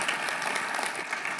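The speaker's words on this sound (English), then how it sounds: "So another round of applause for Beck, Alan, Graham, Minister and Libby." Audience applause at a report launch event on gender equity, a steady wash of many hands clapping from a seated crowd, continuous and fairly even throughout.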